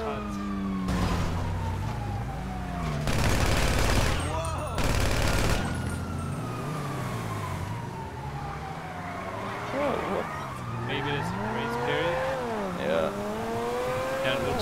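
Drive-by shooting in GTA V Online: a car engine revs and shifts under bursts of rapid gunfire, with a siren wailing through the mix while players talk over the action.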